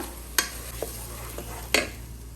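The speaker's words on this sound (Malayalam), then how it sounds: "നമ്മൾ അരച്ച് വെച്ചേക്കുന്ന അരപ്പ് നമുക്കിതിലേക്ക് ഒഴിച്ചു കൊടുക്കാം" Ground coconut paste for a Kerala-style fish curry goes into a hot pan, giving a steady low sizzle broken by a few sharp stirring and scraping clatters, close and fairly quiet, with no voices.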